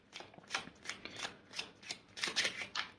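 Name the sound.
shuffling and pulling tarot cards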